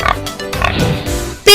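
A farm pig gives a short run of grunting oinks, close and fairly loud, with a sharp, louder burst at the very end.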